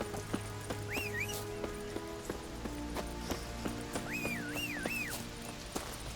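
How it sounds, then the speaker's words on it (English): Roach the horse in The Witcher 3 video game trots with steady clip-clop hoofbeats, joined by a couple of high, wavering whinny-like calls, all fairly quiet. "Are we assuming my horse is here?"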